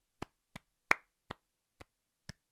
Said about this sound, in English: James, round of applause, please.